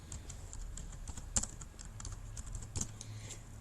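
Quiet, rapid typing on a computer keyboard while entering slide text, with irregular clicks and a couple of sharper key strikes, close and alone.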